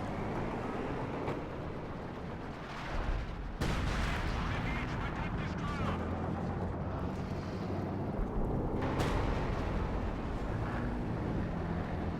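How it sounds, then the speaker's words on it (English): Landmine blast in Company of Heroes 2, a loud sudden burst breaking through dense, continuous battle noise with rumbling explosions and gunfire, while a commentator talks over the action. "Ooh, runs into a landmine."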